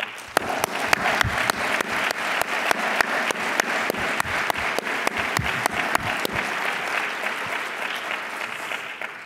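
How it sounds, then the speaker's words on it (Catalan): Sustained audience applause in a university auditorium at a 50th anniversary ceremony, an ovation for three presidents; dense, steady clapping from a large crowd filling the whole stretch with a few sharper claps standing out. "voldria també demanar-vos una, una calorosa ovació per als tres presidents"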